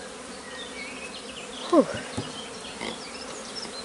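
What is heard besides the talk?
honeybees buzzing at a hive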